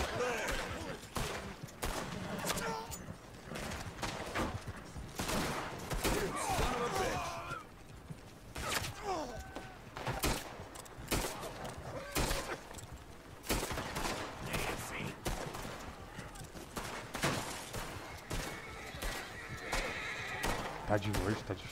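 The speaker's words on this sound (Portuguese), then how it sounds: "Ah, meu revólver tá meio enferrujado, mas a gente dá uns tiros." Revolver fire and horses in the online western game Red Dead Redemption: rapid bursts of gunshots mixed with horse whinnies and hoofbeats, over continuous talk by a player.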